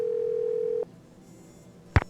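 A telephone dial tone in the Nancy Drew video game The Final Scene hums steadily for under a second, then cuts off, followed by quiet and a brief clunk near the end.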